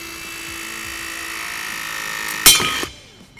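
A RIDGID StrutSlayr cordless shear hums steadily as its dies press through steel strut, ending in a sharp metallic snap and clatter as the cut piece drops, then quiet.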